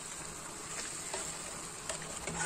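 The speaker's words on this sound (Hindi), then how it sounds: "लीमू का जूस डाला है इसलिए मैं इसको हिला रही हूँ" Marinated chicken tikka with a spoonful of lemon juice sizzles in a pan on the stove while being stirred, a steady, moderately loud frying hiss with soft scraping pushes of the spoon and no talking.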